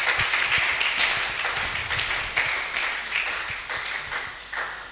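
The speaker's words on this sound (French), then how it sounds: "Applaudissons le Seigneur." Congregation at a French and Lingala church service claps vigorously, a fast, dense patter of many hands that carries on steadily for several seconds, with faint voices mixed underneath.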